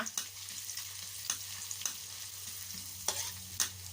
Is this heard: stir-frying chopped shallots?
yes